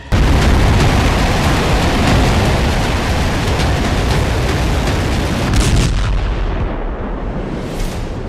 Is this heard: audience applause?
no